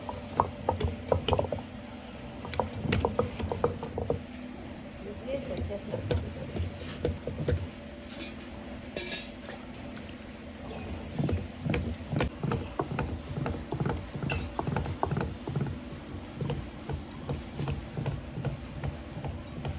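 A stone wet grinder (aattukal) grinds onion, tomato and tamarind into a coarse paste for puli kuzhambu, giving a steady run of rhythmic clacking and knocking of stone on stone, close and fairly quiet.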